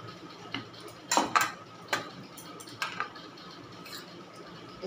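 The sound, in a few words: scooping ripe mango pieces into a bowl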